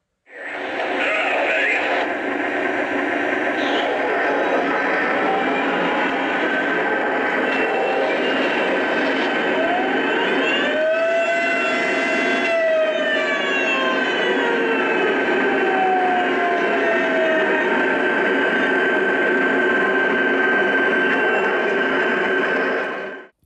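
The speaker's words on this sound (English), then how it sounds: "We even have locomotives with air raid sirens in them now." A model train locomotive's air raid siren wails long and loud, rising and falling steadily over a continuous mechanical hum, sustained with no talking.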